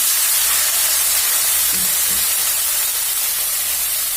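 A loud, continuous hiss fills the scene as a small splash of water meets a hot pan while cooking mustard hilsa, steady throughout with a faint thump near the middle.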